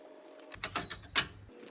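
Loosening a valve adjuster on a Honda Prelude engine, a few brief metallic clicks and a ratcheting creak from a wrench working close up, all within a couple of seconds.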